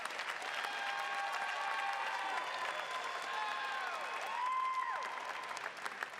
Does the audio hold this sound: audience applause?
yes